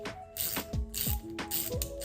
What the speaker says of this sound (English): So it should be an 8mm socket, and just tighten that down.